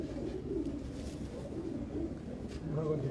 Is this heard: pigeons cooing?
yes